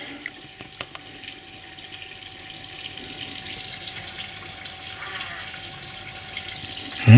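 Gearbox fluid trickles and gurgles faintly through a funnel and tube into the Getrag gearbox of an R50 MINI, a quiet, steady pouring with a faint hum and a few small clicks.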